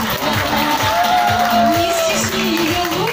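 Applause and cheering from an audience at a dolphinarium seal show. The crowd noise stays steady and fairly loud throughout, with an amplified voice and some music carrying over it.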